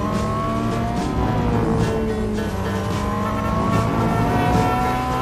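Ferrari 360 Modena engine in a Real Racing 3 race, a loud continuous high-revving drone with sliding gear-change pitch sweeps and faint tire squeal, no voices over it.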